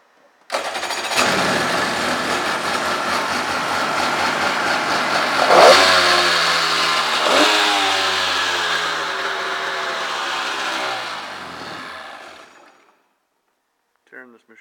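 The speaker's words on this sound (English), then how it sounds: "2002 Polaris Virage TX 1200 carbureted. We're going to start it up." A carbureted 1200 engine on a 2002 Polaris Virage TX personal watercraft cranks and catches, then runs loudly for about eleven seconds with a couple of revs rising and falling before cutting off, close up with no talk.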